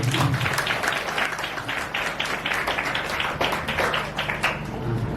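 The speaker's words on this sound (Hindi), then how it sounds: "एक बार हम फिर से जोरदार तालियां बजाएंगे" Congregation at a prayer centre gathering claps heartily together, a thick stream of overlapping handclaps with a low hum underneath, steady and fairly close throughout.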